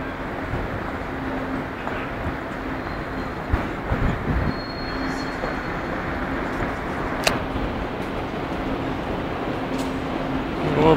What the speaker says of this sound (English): This is a train that can go 300 miles per hour.